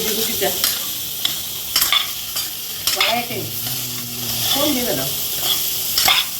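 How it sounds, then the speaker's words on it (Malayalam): Kovakka (ivy gourd) sizzles in hot oil in a pan in a Kerala home kitchen while a spoon scrapes and stirs it in steady, uneven strokes, loud and close. "കഴുകി വെച്ചിരിക്കുന്ന കോവയ്ക്ക എടുത്തിടാം"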